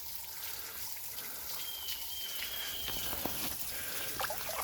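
Water runs steadily at the lower side of a small river waterfall, a soft, continuous wash heard close by outdoors, with a faint high bird call drifting in partway through.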